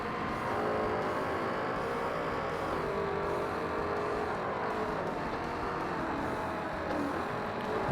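A Corvette race car launching in Forza Motorsport on hard difficulty: a steady, loud engine drone with rising revs and shifting pitch, and the whir of other cars nearby, with no talking.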